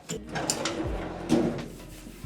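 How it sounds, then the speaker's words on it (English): A big top drawer of a cheap toolbox is unlocked and slid open, with a few short clicks and a sliding rumble close by, alone without talk. "A big old top drawer. Oh, I need to unlock it."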